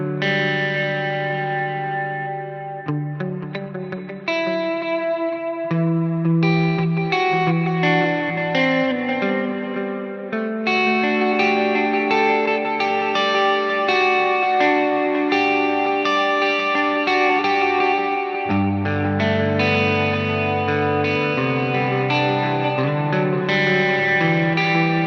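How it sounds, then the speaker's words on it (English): An electric guitar played through a POD Go preset rings out with reverb and chorus, sustained chords and melodic notes shimmering with lush echo, played alone without voices. "One more zing in the reverb sound, set the high cut higher."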